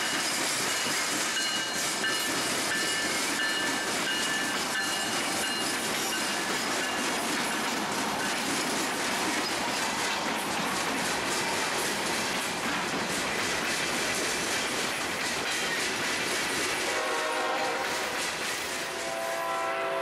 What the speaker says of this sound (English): Our third westbound of the afternoon was yet another string of empty coal hoppers